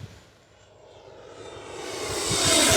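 An FMS F/A-18 Hornet 64mm EDF model jet flies past, its ducted-fan whine rising from faint to loud and hissy as it approaches under hard throttle.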